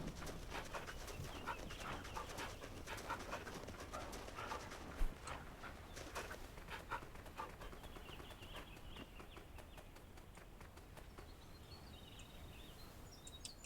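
A puppy pants in the My Little Puppy video game, with quick soft breathy bursts and faint yips close up over a steady game ambience.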